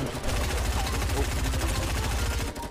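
Rapid bursts of gunfire in Fortnite, a dense, continuous rattle of shots close and loud, with a player voice briefly heard.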